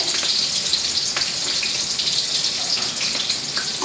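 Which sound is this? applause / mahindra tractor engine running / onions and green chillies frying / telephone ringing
onions and green chillies frying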